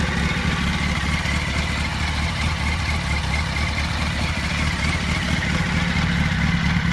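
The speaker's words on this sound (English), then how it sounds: "Let's rev it up a little bit." A 2005 Yamaha R1 Raven Edition motorcycle engine on its stock exhaust runs with a steady, loud, close-up throb for about seven seconds, staying fairly even without sharp rev spikes and with no talking.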